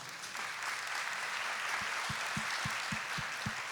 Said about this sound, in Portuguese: Palmas para São José